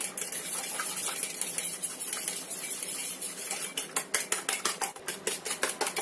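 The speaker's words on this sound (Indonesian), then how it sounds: "Ini kita kocok lepas telurnya, biar putih dan kuningnya itu tercampur rata." Fork or whisk beating a single egg in a bowl to blend yolk and white, a steady run of light clinking scrapes that turns into quicker, sharper rhythmic taps toward the end, close and fairly loud with no voices.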